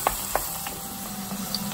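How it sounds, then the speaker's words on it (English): A pan of mushroom barley risotto sizzles steadily as white wine is poured in to deglaze, a loud continuous frying hiss with a couple of sharp pops near the start. "as it starts burning, you need to deglaze the pan with some white wine"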